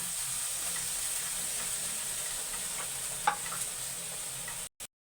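Corned beef sautéing in a pan, a steady close sizzle and hiss with one or two soft clicks of a spoon as it is stirred, then an abrupt cut to silence near the end.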